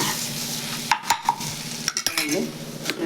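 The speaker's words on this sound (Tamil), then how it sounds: "முட்டை நல்லா எண்ணெயில் வதங்கிடுச்சு. இதோட கலந்து நல்லா கிண்டி" Eggs frying in oil for an egg vermicelli (semiya) dish are stirred with a utensil, a steady close sizzle broken by several sharp scrapes and clinks against the pan, with no talking.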